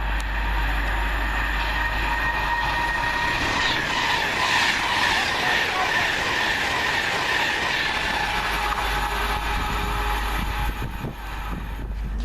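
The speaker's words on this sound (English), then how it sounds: "do you know the Preston train's coming?" A Preston-bound train passes along the railway line near Cheddington, a loud continuous rumble and clatter of wheels and wagons sustained throughout, fading slightly at the very end.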